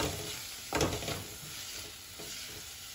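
Tomatoes with salt are stirred in a sizzling cooking pan, a steady hiss of frying with a sharper scrape of the spoon near the start and softer stirring strokes afterward.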